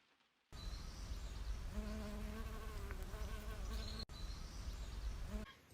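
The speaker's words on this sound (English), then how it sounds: "Another one to recognise is the common carder bee" A common carder bee, a gingery-thoraxed bumblebee nesting in dry grass, buzzes close by in a steady drone of several seconds, its pitch wavering as it hovers, with a short break partway through and no talk.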